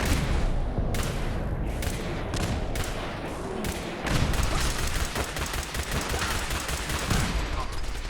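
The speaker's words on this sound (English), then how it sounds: "Oh god, missile launcher!" A missile launcher firing in a survival game, heard as a dense barrage of booming blasts and rattling shots that keeps going without a break, with faint talk underneath.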